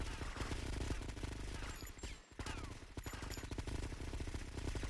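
A gun fires in rapid automatic bursts in GTA: Vice City with the Nightmare Mod, dense cracking shots filling the air with only a brief gap partway through.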